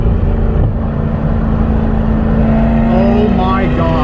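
Mid-engine Chevrolet C8 Corvette driven hard through corners, a loud continuous engine drone heard from inside the cabin, pitch holding then climbing as it accelerates out of the turn.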